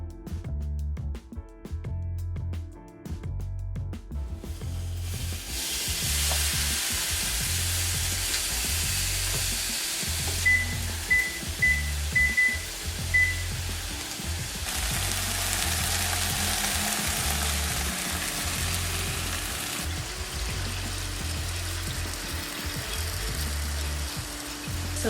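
Two packs of bacon sizzle steadily in a flat pan for a bacon jalapeño mac and cheese, a loud, continuous crackling fry that starts after a few quiet seconds and holds without talk.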